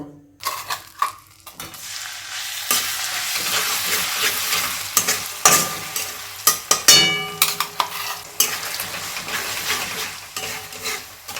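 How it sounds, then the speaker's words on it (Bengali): Ground spice paste goes into hot garlic-fried oil and sizzles loudly, followed by clattering spoon stirs and scrapes against the pan. The sounds build in bursts after a quieter start. "এই ভাজা রসুনটার মধ্যে কিন্তু এবার আমাদের যে বাটা মশলাটা আছে এই বাটা মশলাটা কিন্তু ঢেলে দেব"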